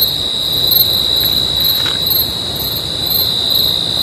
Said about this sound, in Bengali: শুধু ঝিঝির শব্দ ছাড়া আর কিছু শুনতে পাবেন না